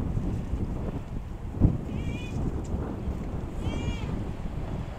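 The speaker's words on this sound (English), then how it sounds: "That wind's been blowing so bad" Strong wind gusts steadily across the microphone outdoors on a cattle farm, a constant low roar that fills the clip, with faint bird chirps above it and one brief bump.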